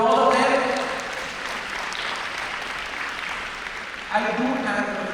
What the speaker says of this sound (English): One big round of applause again for all of them